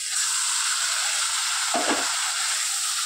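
Boiled taro leaves drop into moong dal frying in a pan, giving a steady broadband sizzle with a brief louder burst of stirring and hissing near the middle, and no voices.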